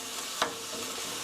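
Jajangmyeon sauce being stir-fried in a pan, a soft, steady sizzle with a single short scrape of stirring partway through.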